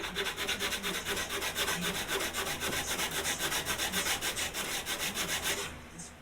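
Hand sanding across hard, old oak wood makes a rhythmic, close back-and-forth rasping, steady strokes repeating evenly before fading out at the end.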